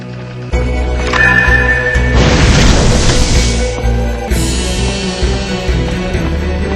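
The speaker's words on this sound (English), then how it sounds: "Shotgun shot." A shotgun blast in the PS2 game Evil Dead, a loud booming shot with a long rumbling tail laid over game music and effects, followed by a second heavy impact.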